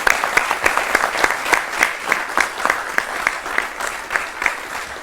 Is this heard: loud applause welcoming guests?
yes